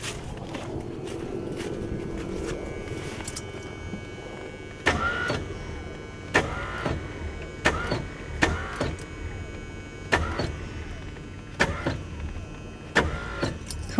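An abandoned Mustang Cobra, sitting for 27 years, cranks repeatedly without catching: a steady starter whir at first, then a series of short cranking bursts separated by pauses.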